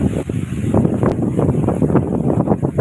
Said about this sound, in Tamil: காற்று பயங்கரமாக இருக்குது